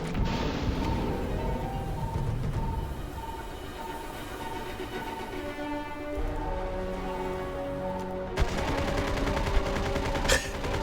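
Gun in the Starfield video game firing nonstop, a continuous rapid stream of shots over a steady mechanical hum and tonal game background, with no pauses.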